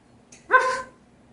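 A recently adopted pet bird, a parrot, mimics a dog's bark with one loud, close, harsh bark-like call that stands alone against a quiet room.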